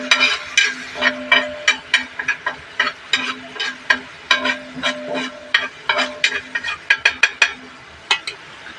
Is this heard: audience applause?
no